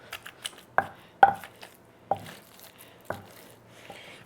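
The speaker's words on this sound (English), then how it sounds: "We're just gonna mash it until it's into little chunks." Tomatoes and pork being mashed into chunks in a pot, giving a string of sharp, irregular thuds and knocks with short wet squishes between them, close by and with no talking.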